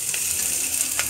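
Dried kasuri methi leaves being sautéed in a pan for chicken patiala, giving a steady, close frying hiss with soft stirring clicks and no voices.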